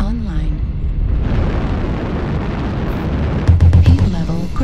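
Artillery strike in the MechWarrior Online game: a loud, sustained rumbling barrage of explosions that ends in a cluster of sharp, heavy booms, with game voices over the top.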